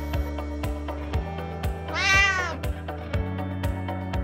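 A cat meows once, a clear drawn-out cry rising and falling, heard over steady background music with a regular beat.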